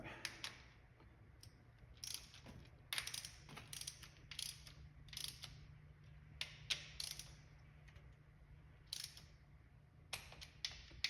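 Ratchet wrench clicking in quick, repeated bursts while bolts on a Dodge HEMI engine are torqued to spec during camshaft installation, with a steady low hum beneath and short pauses between pulls.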